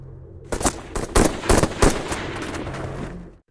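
Loud, close bursts of automatic and single-shot gunfire from a film shootout, rapid cracks clustered over a couple of seconds before trailing off, with no voices.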